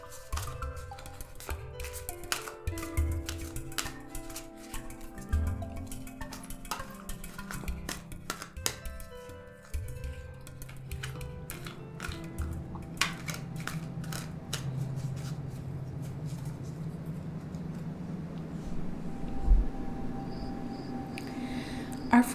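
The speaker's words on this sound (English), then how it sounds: "So first, I'm going to shuffle my cards." Crisp rapid clicking and riffling of tarot cards being shuffled repeatedly, close up, with a steady soft rustle building in the second half.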